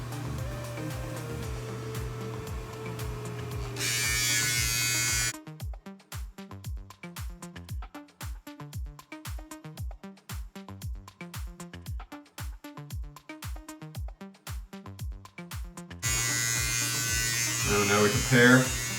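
An electric beard trimmer set to guard 2 of 6 gives a steady close buzz at the start and again at the end, with a long middle stretch of rapid rhythmic pulsing between.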